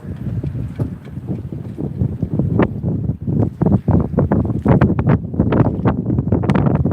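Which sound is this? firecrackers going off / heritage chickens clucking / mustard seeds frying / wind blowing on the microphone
wind blowing on the microphone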